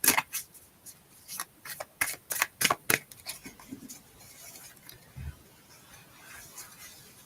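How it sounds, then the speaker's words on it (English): A hand pulls six tarot cards from a deck, giving a quick run of crisp, close snaps and slides of card stock, then quieter handling and rustling. "So I'm just going to pull all 6 cards at once."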